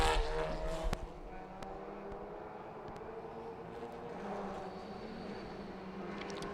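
TCR touring race cars run on the Sochi track during free practice, a continuous engine drone that swells slightly as cars pass, heard at a distance with a few sharp clicks early on.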